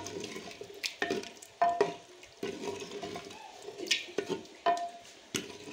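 Beef and pumpkin pieces frying in oil, a kilo of meat with half a kilo of pumpkin, give a soft steady sizzle with repeated stirring scrapes and clinks against the pot, close and fairly quiet.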